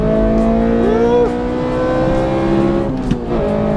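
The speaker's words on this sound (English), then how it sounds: "That Vtec sounds good." A Honda K20 VTEC engine in an EK Civic revs hard and close, climbing to a high-pitched wail, dropping briefly, then screaming up again as the car accelerates.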